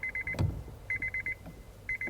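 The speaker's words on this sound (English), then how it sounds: "You learn to ignore the beeping." Repeated bursts of an electronic warning chime from a 2006 Honda Odyssey with the key left in the ignition, beeping in quick regular groups with short pauses, close and clear.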